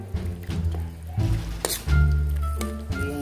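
A cornstarch mixture is stirred until thick, giving wet squishing and dripping sounds close up, with occasional clinks, over a low background hum.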